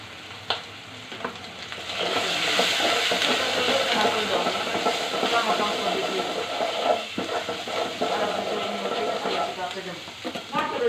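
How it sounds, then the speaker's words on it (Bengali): Spice paste with ground coriander frying in a pan for a snakehead fish and potato curry, a steady dense sizzle with scraping stir sounds throughout, close and fairly loud. "এখন মশলাটাকে আমি ভালো করে ভেজে নিয়েছি"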